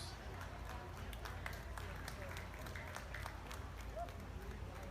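A crowd applauds steadily in a fair showcase ring at a dairy cattle event; the clapping is dense and sustained across the whole stretch, with a busy arena wash and some talking underneath.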